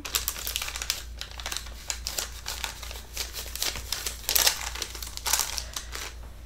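Paper is handled close by, giving repeated crisp crinkles and rustles in short irregular bursts, some louder than others.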